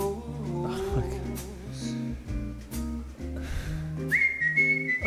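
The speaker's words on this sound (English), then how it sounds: "Oh, and then bookending with the whistle is genius." Melodic whistling carries a tune over a bass-heavy song, with a long rising whistled note near the end.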